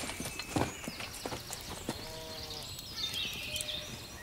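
Horse hooves clip-clop steadily in a medieval outdoor setting, with sheep or goats bleating nearby and a busy background of farm-animal and ambient noise.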